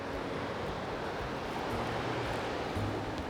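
Water pours steadily from the outlet of an old mined drainage tunnel on a river hike near Horseshoe Bend, a continuous broadband rush that stays even and fairly close throughout, with no voices.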